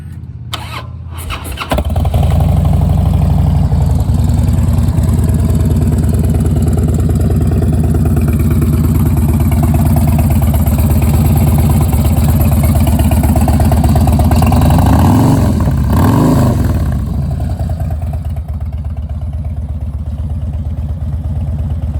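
A 2009 Harley-Davidson Dyna Fat Bob motorcycle engine fires up and runs loud and close, a steady deep rumbling idle with a brief revving swell partway through, no voices over it.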